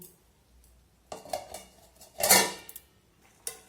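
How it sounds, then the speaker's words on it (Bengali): Chichinga curry with chana dal stirred in a cooking pot, a ladle scraping and clinking against the metal in a few separate bursts, then a lid set down with a brief clatter, close by with no talk. "এখন সব কিছু নাড়াচাড়া করে নিয়ে আমি আবারও ঢেকে দেবো 3 মিনিটের জন্য।"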